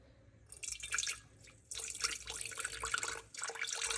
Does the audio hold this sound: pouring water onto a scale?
yes